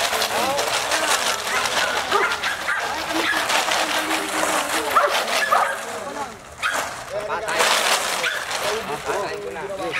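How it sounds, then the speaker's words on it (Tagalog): A protection dog barks, yips and whimpers in rapid, agitated bursts during K9 training, loud and close, with handlers calling out over the continuous noise. "Agiting na aso."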